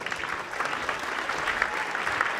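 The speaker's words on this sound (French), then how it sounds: "on peut l'applaudir." An audience at a radio station's New Year greetings event applauds a prize handover, a steady dense clapping that sounds fairly close and full throughout.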